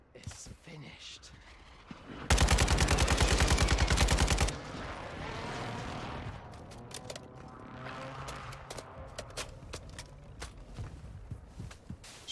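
Video game gunfire from an RPK and a Basilisk: a sharp, loud burst of rapid automatic fire for about two seconds, followed by scattered quieter shots and footsteps, with voices talking throughout.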